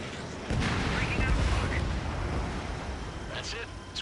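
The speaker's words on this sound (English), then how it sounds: "Mage 2, missile away." Missile launch and blast in the jet combat game Ace Combat 7, a loud low rumbling roar building at half a second and sustained with bursts over dense battle noise, with radio chatter in the mix.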